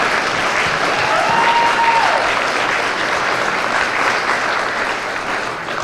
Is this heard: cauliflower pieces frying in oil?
no